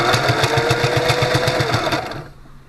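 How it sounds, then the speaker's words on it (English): A sewing machine stitching the folded-over edge of a homemade bike pogie runs in one loud, close, continuous burst with a fast rhythmic needle beat, then winds down to a stop. No one speaks. "why is he sewing that folded over edge?"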